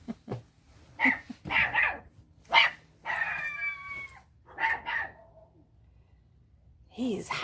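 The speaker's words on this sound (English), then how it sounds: "Nope, that would be my dog barking." A pet dog barks and lets out drawn-out howls at a door, the calls coming in short bursts close by with brief pauses between.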